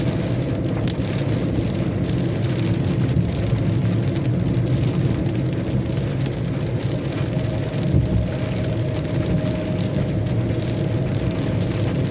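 Rain pours steadily with a light wind, a dense, even hiss of drops on surfaces that stays loud and close without a break.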